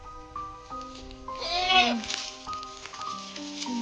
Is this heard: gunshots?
no